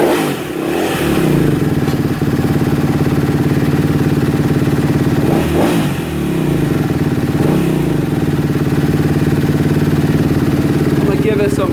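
A Kawasaki KX250F dirt bike engine, just restarted after its idle was lowered, runs at a steady, loud, close idle with a constant mechanical rattle and a few slight dips in pitch.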